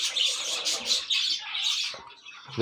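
Young chicks in a bird breeding box cheep in quick, high, overlapping peeps, close and fairly soft, with short gaps between bursts.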